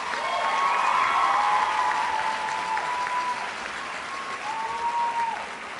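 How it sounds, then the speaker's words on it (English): Commencement audience at a college graduation applauding the platform party, a dense wash of crowd clapping with a few light cheers, tapering slightly toward the end. "Please join me in a round of applause for the platform party."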